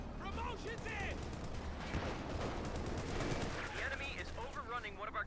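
A PaK 40 anti-tank gun fires repeatedly in Company of Heroes 2 battle audio, sharp booms mixed with other gunfire and explosions, all beneath steady commentary.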